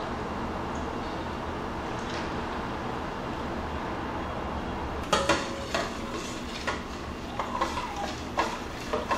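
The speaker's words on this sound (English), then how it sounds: "we're going to mix it in with the half and half sugar and egg yolk mixture" Whisk strokes clinking against a bowl while whipping cream is mixed into a half-and-half, sugar and egg yolk base for homemade ice cream, a steady low hum at first, then a run of sharp, uneven metallic taps in the second half.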